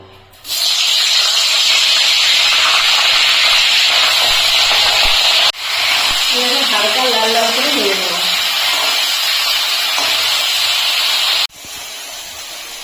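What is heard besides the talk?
cauliflower frying in hot oil in a wok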